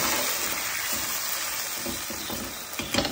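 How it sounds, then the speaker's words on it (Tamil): Food sautéing in a pan with salt for a fish curry, giving a steady, fairly loud broadband sizzle throughout with a few small clatters near the end. "நல்லா வதங்கட்டும்."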